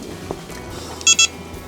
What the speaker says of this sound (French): à chaque fois que vous touchez au bouton de réglage de la sensibilité, pour le moins sensible, il y a un bip